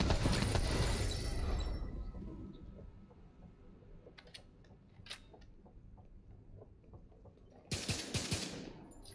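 Turret gunfire in The Division 2 on PS4 comes in bursts of sharp rapid shots, loud at the start and again near the end, with scattered single cracks and mechanical clicks in the quieter middle.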